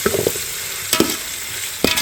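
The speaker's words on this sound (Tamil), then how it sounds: "மல்லி புதினா வெங்காயம் வெந்துட்டுருக்கு." Onions with mint and coriander leaves frying in a pan for fish biryani, with soft sizzling and a few brief stirring scrapes, heard close with no talk.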